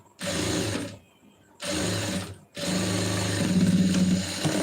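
A sewing machine stitches a lined blouse in three close bursts, its motor whirring with a rapid needle chatter and short pauses between runs.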